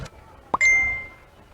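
Mobile phone chat notification sounds as a short bright ding with a ringing tone that fades over about half a second, heard in a quiet room after a faint tap.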